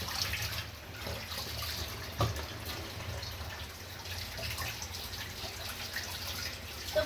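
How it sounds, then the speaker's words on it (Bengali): Fish rinsed under a running tap in a home kitchen while preparing a Bangladeshi fish bhuna, giving a steady close splash and trickle of water with scattered drips and no talk. "আমি আরেকবার একটু ধুয়ে নিয়েছি"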